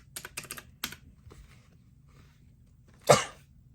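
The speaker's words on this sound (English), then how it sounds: "Sorry, I had a sneeze." A single sharp sneeze near the end, loud and close, after a few clicks of keyboard typing.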